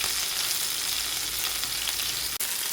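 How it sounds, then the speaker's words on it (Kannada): Marinated fish frying in a pan, a continuous bright sizzle and crackle of hot oil close by, steady throughout with one brief dip near the end and no voices. "ನೋಡಿ ಮೀನು ಫ್ರೈ ಆಗ್ತಾ ಇದೆ"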